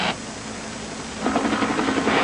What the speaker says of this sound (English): Can you see the chopper right now?